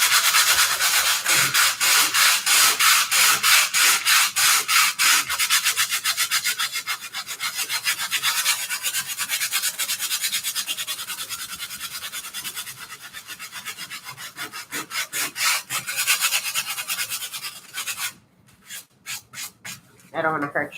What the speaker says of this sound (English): And then I'll go ahead and sand this down.